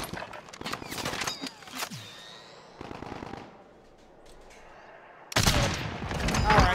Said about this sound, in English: He keeps shooting at me.